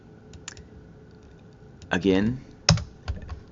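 Light clicks of typing on a computer keyboard come in sparse, close bursts, with a person speaking briefly between the keystrokes.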